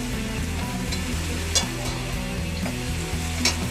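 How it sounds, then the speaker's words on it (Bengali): Elephant foot yam stalks sauté with onions in a pan, a loud, even sizzle with repeated scraping stirs and a couple of brief utensil clacks. "ওলনাটাগুলো পেঁয়াজের সাথে ভালোভাবে কষানো হয়ে গেছে।"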